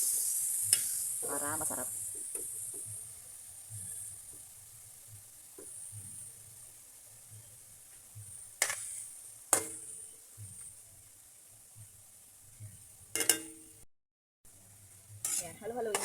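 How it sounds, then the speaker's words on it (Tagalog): Pork steak marinated in soy sauce and calamansi stir-frying in a pan, with a low steady sizzle broken by sharp clinks and scrapes of a utensil against the pan, and a brief spoken remark early on. "Ayan, fry natin mga steak. Stir fry lang natin."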